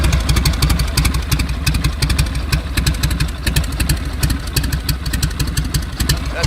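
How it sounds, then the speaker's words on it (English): A 1981 Harley-Davidson Road King with a shovelhead engine idles close by, its loud, lumpy, uneven potato-potato beat loping steadily with no voice over it. "That's an idle you're only going to get from a shovel head or an iron head"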